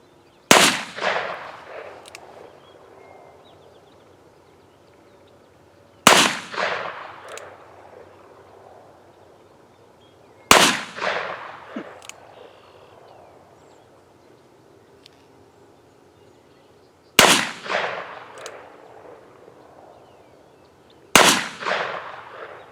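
Five sharp, loud gunshots ring out at several-second intervals during accuracy target shooting with a .38 Special, each crack followed by a decaying echo across an open range.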